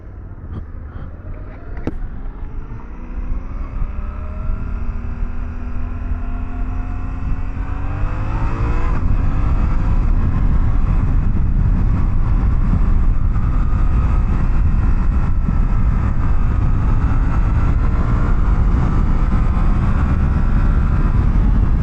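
Adventure motorcycle engine drones close while riding, revs rising in stretches and settling into a loud steady roar with wind rush, continuous throughout with no voices.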